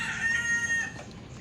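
A single rooster crows nearby, a short drawn-out call that fades within about a second against quiet outdoor background.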